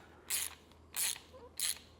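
Three quick bursts of a ratchet socket wrench cranking a bumpstop bolt snug on a 2024 Toyota truck, evenly spaced and close, with quiet pauses between.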